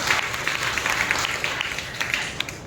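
A church congregation claps together during a Sunday worship service, a brief burst of scattered hand claps and applause at moderate distance, with faint voice traces mixed in.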